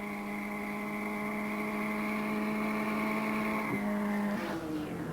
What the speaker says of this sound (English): we take race cam in Peter Fitzgerald Starion, heading up Bitchapave again